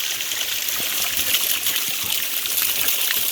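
Mountain stream water running down a hillside near a Smoky Mountains trail, a steady, close broadband rush and trickle that holds constant and fills the whole clip, with no voices.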